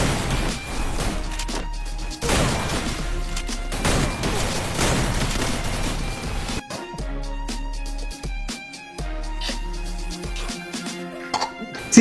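Repeated shotgun blasts from an M590 scoring headshots in a mobile shooter, a dense run of loud booming shots over busy game music and effects, then sparser sharp reports with short gaps near the end.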